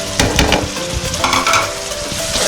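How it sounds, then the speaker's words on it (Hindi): Chili and spices drop into a sizzling tomato, garlic and ginger paste and are stirred in a pan, loud close sizzling with scraping stir strokes and no voices over it. "अब हम इसमें डालेंगे मिर्ची और जो मसाले थे वो सारे ऐड कर देंगे"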